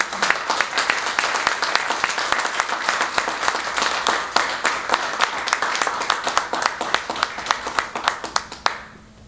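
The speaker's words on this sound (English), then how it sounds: "Let's give him a big, big round of applause." A seated crowd at a Network of Champions gathering gives a big round of applause for Senator Morrell, steady, loud clapping that holds for nine seconds before cutting off abruptly.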